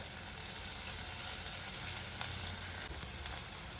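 A spice paste hits a hot pan with tomatoes in a potato rice dish and fizzes in a continuous, even sizzle, quiet and close, with faint stirring scrapes and no voices.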